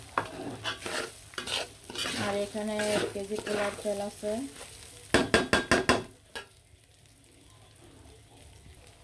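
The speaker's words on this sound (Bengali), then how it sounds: "নাড়াচাড়া দিয়ে পোলাওর চালটা ভেজে নিব।" Polao rice, one kilogram, being stirred and fried in a pan, with scraping spoon strokes and soft sizzling, a burst of quick metallic clatters midway, then quieter frying; a voice speaks briefly over it.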